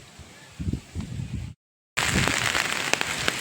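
Steady rain falls and patters on surfaces outside a home's doorway, a dense hiss with soft thuds that drops out briefly and returns louder, with some talk early on.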